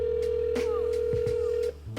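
While a call to a company goes unanswered, a steady telephone tone hums continuously for most of the clip, loud and close, then cuts off abruptly near the end.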